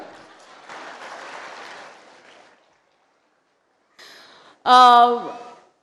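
An audience at an event claps for about two seconds, a dense burst of applause that fades into silence before a person starts speaking.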